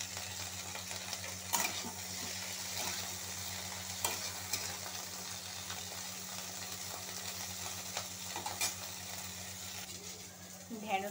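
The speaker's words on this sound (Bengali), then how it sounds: "ঢেঁড়সটা একটু নুন দিয়ে ভাজছি।" Okra frying with salt in hot oil in a kadai, a steady soft sizzle running throughout with a low hum underneath and a few faint clinks, fairly quiet and without talk.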